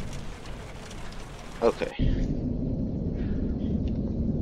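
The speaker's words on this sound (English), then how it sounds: "Rain." Rain from the horror video game The Joy of Creation makes a steady hiss at moderate volume, briefly interrupted by a voice before the downpour continues.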